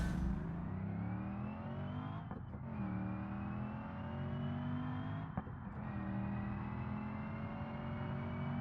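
A car engine in BeamNG.drive on the Nürburgring revs up steadily, its pitch climbing through two quick gear shifts, a continuous close driving drone with no talking.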